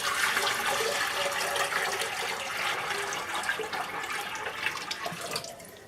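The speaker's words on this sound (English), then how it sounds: "Going in another bucket of water." A bucket of water pours and splashes steadily into an aquarium in a continuous rushing stream, fairly close, with no talking.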